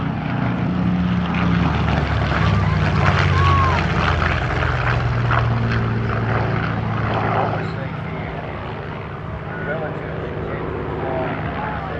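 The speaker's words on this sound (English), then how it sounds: "Now time for the only FW-190 in the Southern Hemisphere, doing battle with a Spitfire Mark 8." A Focke-Wulf FW-190 and a Spitfire Mark 8 fly a mock dogfight at an airshow. Their propeller engines give a loud, sustained droning roar that eases slightly toward the end.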